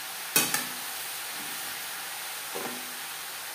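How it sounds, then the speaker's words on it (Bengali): Bottle gourd with turmeric is stirred in a pan over a high gas flame for a catla fish head curry, giving a soft, continuous hiss with a few brief spatula scrapes near the start and later. "হাই ফ্লেমে নাড়াচাড়া করে নেওয়ার পর গ্যাসের ফ্লেমটাকে লোতে করে দেব"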